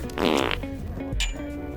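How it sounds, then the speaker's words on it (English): Two short fart sound effects, the first a loud buzzy rasp and the second a shorter, quieter blurt, over a low background hum. "Gotta put some fart sound effects"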